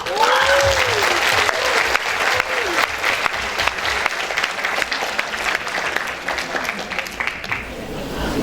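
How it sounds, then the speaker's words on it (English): A large audience gives loud, steady applause to welcome Professor Kydland, Nobel Laureate in Economics, at an economic policy lecture. The clapping fades slightly toward the end, and a voice speaks briefly underneath it. "Please give one more round of applause for Professor Kydland."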